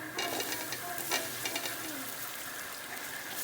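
Tomatoes go into frying masala for chicken biryani and are stirred, making a busy, crackling sizzle with brief scrapes and clatter throughout and no speech.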